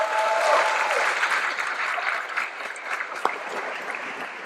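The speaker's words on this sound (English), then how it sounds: "How about a round of applause for that?" Audience at a high school commencement ceremony claps steadily, with dense applause filling the whole moment and a few cheers mixed in.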